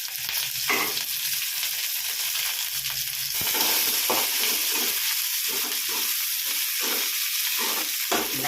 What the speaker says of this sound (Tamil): வெங்காயம் போடுறேன் கருவேப்பிலை போடுறேன்